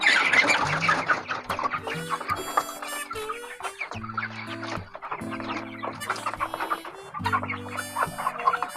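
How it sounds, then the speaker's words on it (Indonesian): Farm chickens feeding, with repeated clucks and short calls from several birds close by, alongside scattered pecking and scratching noises in an irregular flock chatter. "Dan kita pun akan senang jika melihat ayam-ayam kita makan seperti ini."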